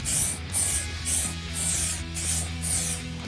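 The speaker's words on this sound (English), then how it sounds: "For being out of a can, it's actually spraying really good." Six short bursts of hissing aerosol bedliner spray under a Jeep WJ Grand Cherokee, in an even rhythm, close and fairly quiet, each lasting about a third of a second.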